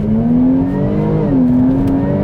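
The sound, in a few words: car accelerating hard on auction test track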